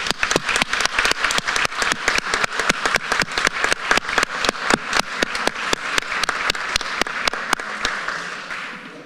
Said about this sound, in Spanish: así que mínimo un aplauso por el compañero